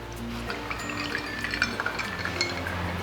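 Cow's milk poured over ice cubes in a glass for a homemade dalgona coffee: a soft, close trickle of liquid with faint clinks of ice, steady for a few seconds over a low background hum.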